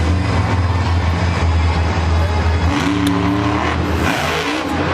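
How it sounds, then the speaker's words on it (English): Ice El Toro Loco monster truck roaring at a Monster Jam stadium show in Philadelphia, its engine loud and sustained, shifting pitch as it revs, with crowd noise around it. "Scott Buteau will kick us off in the Ice El Toro Loco. Lining up for the side of that jump"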